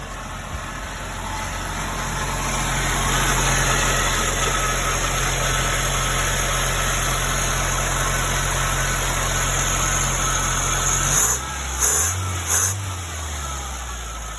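A snowmobile engine with an electric fuel pump idles steadily and loudly with a constant hum, then cuts out near the end into a few uneven sputters.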